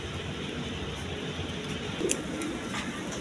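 Pigeons at a pigeon farm cooing softly against a constant low background hum, faint and distant, with a slight rise midway, no clear talk.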